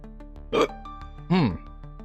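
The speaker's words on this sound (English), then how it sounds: "Hiccups." A person hiccups twice, about a second apart. Each is a short, sharp voiced gulp, and the second one swoops down in pitch. Both are close, against a quiet background hum.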